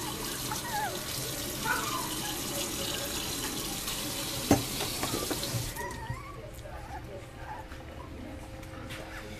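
Tap water runs steadily into a sink or tub during a dog's first bath, a continuous rushing hiss that drops away near the end, with a brief knock partway through.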